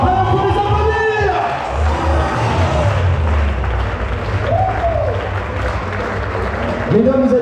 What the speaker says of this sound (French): Alors pour les applaudir.